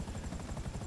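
Helicopter rotor chop in GTA V Online during a prison break heist, a steady rhythmic thumping drone with close, even pulses filling the short moment with no talk over it.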